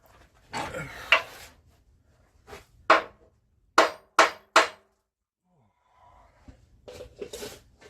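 A hammer strikes a Jeep transmission drop mount on a Cummins-swapped Jeep in a handful of sharp, separate metallic blows, close and loud, with quiet pauses between the hits.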